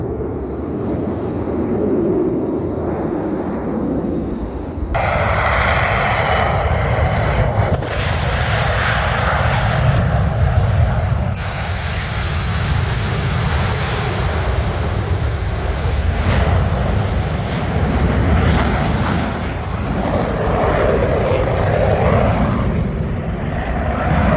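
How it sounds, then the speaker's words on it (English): Blue Angels solo jets take off from the runway at an air show with a loud, sustained roar that surges in sudden steps as the aircraft power up and climb. "the 2 solo pilots begin their takeoff maneuvers"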